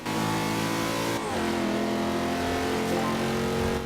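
A car engine in the racing video game Forza Horizon 2 revs hard and loud, a steady high whine that drops sharply in pitch at a gear change and then climbs again, continuous and close.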